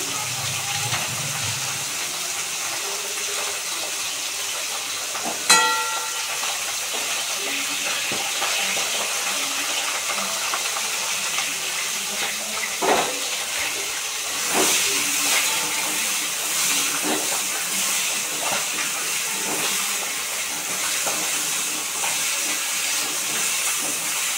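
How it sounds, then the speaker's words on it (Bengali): Fish frying in a pan, a steady hissing sizzle lasting throughout with a few sharper clatters and stirring bursts, close and continuous with no voices. "এদিকে ঝালের মাছটা ভাজি।"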